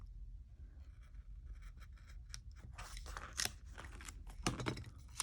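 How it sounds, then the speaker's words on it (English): Scissors snip through planner paper along the edge of a printed grid, a run of faint, quiet crisp cuts and crunches with small rustles between them and no talking. "Cut along the edge of this grid."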